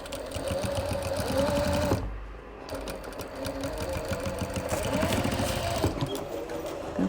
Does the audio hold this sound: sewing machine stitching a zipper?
yes